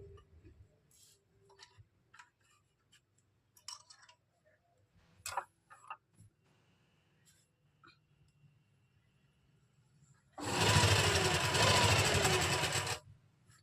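A sewing machine runs a basting stitch through kurti fabric and its lining in one loud continuous burst of about three seconds, after scattered soft clicks and handling taps in a quiet room.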